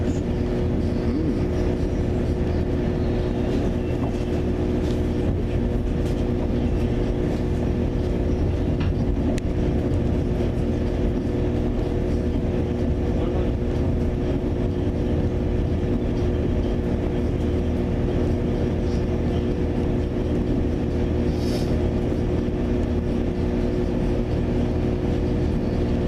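Train idling and rumbling beside a station platform, a constant low engine drone with steady tonal hum and faint clanks, loud and unbroken for the whole stretch with no talking.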